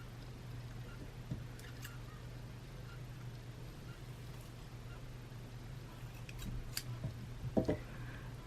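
Scissors cut fabric scraps with a few faint, quiet snips scattered over a low background hum, including a slightly sharper cluster of cuts near the end.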